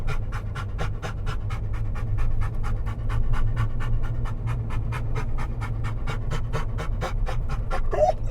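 An excited ten-year-old dog pants rapidly and steadily up close at a trailhead before a hike, a continuous rhythmic huffing that runs the whole time, with a brief whine near the end.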